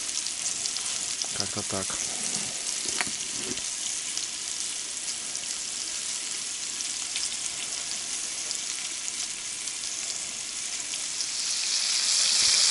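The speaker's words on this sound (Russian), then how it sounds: "Все, жарим." Fresh pike fries in a pan at a winter taiga tent camp, a steady dense sizzle and crackle running throughout, briefly joined by a few utensil clinks and a short spoken phrase early on.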